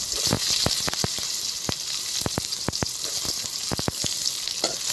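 Onions sizzle and crackle steadily in hot oil, with a bright hiss throughout and scattered sharp pops, close up and without speech.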